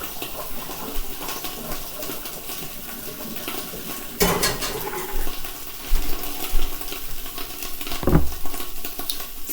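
A pot of cooked egg noodles for haluski is tipped out to drain, releasing a splashing rush of water that swells in a few surges, with a sharp clatter partway through.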